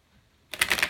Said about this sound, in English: I'm just doing a quick rifle shuffle.